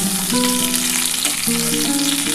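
Potatoes and pointed gourd fry in hot oil with spices for a vegetarian curry, giving a loud, continuous close sizzle under soft melodic background music.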